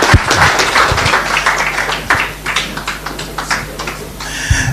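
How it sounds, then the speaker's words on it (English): An audience at a Pan-African climate financing conference breaks into applause after a speech, a dense crackle of many hands clapping, moderately loud and steady. "Let's give him a round of applause."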